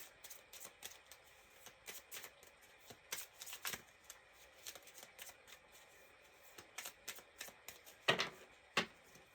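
A deck of tarot-style reading cards is shuffled close by in quick riffling bursts, with a few louder snaps near the end and quiet pauses between.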